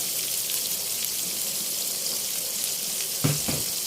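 Small cut pieces of river fish fry in a home kitchen, giving a steady, fairly quiet hiss of oil that runs throughout, with a brief louder clatter near the end.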